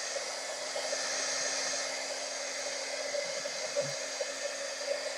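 A hair dryer blows steadily on painted cardboard of a box, a continuous close whoosh with a faint hum and an occasional small knock, no voices.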